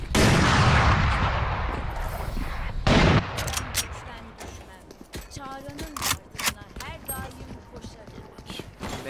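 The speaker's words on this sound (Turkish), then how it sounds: "Rastgele tarıyor, vuruyor adam." Rapid automatic gunfire sprays in bursts during a video game match, loud and dense at first, then thinning into scattered shots and impacts while several players talk over it.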